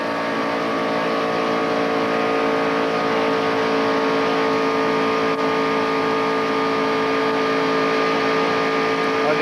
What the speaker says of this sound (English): Listen to the motor in this thing.